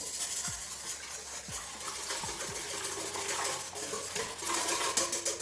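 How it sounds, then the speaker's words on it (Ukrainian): Eggs with sugar and salt whisked by hand in a bowl, a steady fast scraping and clinking of a metal whisk against the bowl, close and continuous, with a few light knocks early on. "Сюди ми додаємо цукор, сіль і це все трошечки взбиваємо вінчиком"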